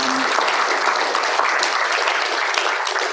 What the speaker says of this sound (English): So a huge round of applause.